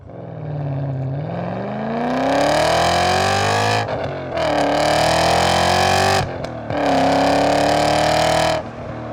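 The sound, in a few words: BMW M5 exhaust note with valve closed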